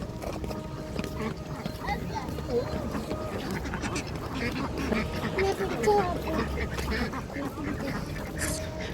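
Ducks quack intermittently through a busy outdoor background at a fish pond near a waterfall and dam, with murmuring voices and general noise all the way through.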